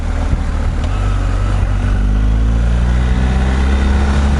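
A 1200 cc over-litre motorcycle engine revs steadily in third gear as the throttle is twisted, a loud continuous close-up drone with rising harmonic tones and no talk.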